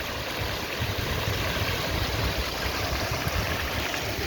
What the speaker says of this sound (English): this is the water fountain outside of the Royal Bank of Canada